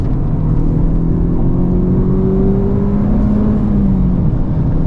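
A 2023 Honda Civic Type R on Pilot Sport 4S tyres driving at Gingerman Raceway, a loud, steady close engine drone with a rising and falling tone as it accelerates, under heavy road roar.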